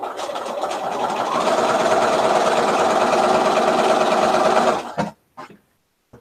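A sewing machine chain-pieces a quilt block with a loud, steady, close mechanical whir for about five seconds, then stops and leaves a few brief clicks and handling sounds.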